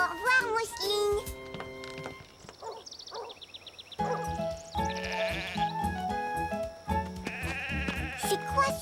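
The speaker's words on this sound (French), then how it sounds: "Des moutons? Youpi, grand-mère, regarde! Des moutons!" Sheep bleat on a farm in an animated scene, several short calls mixed among musical notes and sound effects, with a voice also present.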